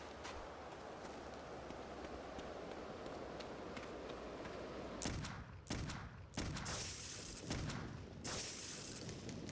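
Gunfire rings out in Clive Barker's Undying as a string of sharp, loud shots in irregular bursts, cutting in after a low, steady ambient rumble.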